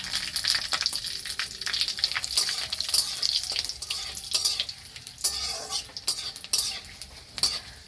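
Bay leaves and dried red chillies with panch phoron spices sizzle steadily in hot oil in a pan, with repeated scraping and clinking from a stirring spoon throughout; no one speaks.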